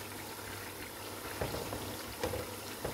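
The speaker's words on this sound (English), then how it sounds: "I will leave it to fry." Turkey and mackerel fish stew bubbling and frying in a pot over low heat, a steady soft simmer with a few louder pops and spatters, close and alone.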